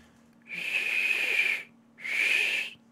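Two sustained high whistled tones, each about a second long with a short gap between, thin and slightly breathy, imitating an eagle's cry.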